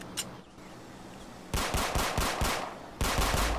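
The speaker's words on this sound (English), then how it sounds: "I'm able to shoot again." Rapid automatic gunfire in a Roblox game, two fast bursts of repeated shots, the second starting right after the first ends, loud against a quiet background hum.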